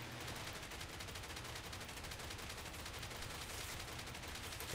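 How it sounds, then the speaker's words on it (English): Rapid machine-gun fire from aircraft rear gunners in War Thunder rattles continuously for several seconds, a dense, even stream of shots heard faintly and at a distance. "I tried some barrage fire, but no effect."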